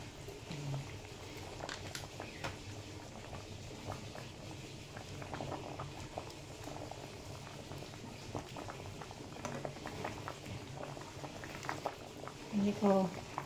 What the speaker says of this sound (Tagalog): Takpan ulit natin para kumulo.